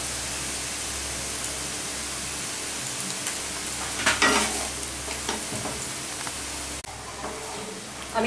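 Ash gourd being stirred in a pan with turmeric and salt, a steady broadband sizzle with a few louder scraping bursts in the middle and at the end, close and alone without talk.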